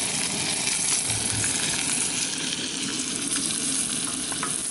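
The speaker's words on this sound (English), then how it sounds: "Alright, all the fish are cooking up right now." Brook trout fry in hot butter in a pan, giving a steady, dense crackling sizzle that stays loud and even throughout with no talking.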